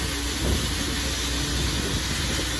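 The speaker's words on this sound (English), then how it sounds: "it's a very, very faint stream of media coming up from the nozzle" A plastic media blaster strips paint and primer from a Porsche 928 fender, giving a steady, close, loud hiss and rush of air and grit that carries on unbroken throughout, with no speech.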